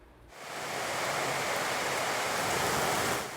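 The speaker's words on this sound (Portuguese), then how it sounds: "não chovia forte desse jeito desde o dia 3 de setembro" Heavy rain from a storm in the Amazon region, rising quickly into a dense, steady hiss of downpour that holds loud and even for a few seconds.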